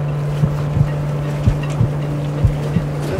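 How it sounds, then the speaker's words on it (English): Strong night wind buffets a boat at anchor while waves slap the hull in irregular thumps, a loud constant rush close to the microphone with a steady low hum underneath. "Tonight we will have uh, a very strong wind."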